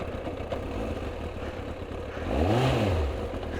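A Kawasaki ZX-9R motorcycle engine rumbles at a low idle, then revs up in a short rising and falling surge, moderately close with road noise.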